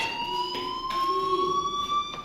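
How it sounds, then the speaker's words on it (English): A fire alarm rings in the video game Life is Strange, a steady electronic tone with faint pulsing repeats, moderately loud and heard without talk. "Hey, do you hear that fire alarm? That means you should be outside."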